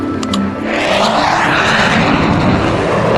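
A jet airplane passes with a loud, continuous roaring engine wash that swells and holds steady, close and dominant, with no voices present.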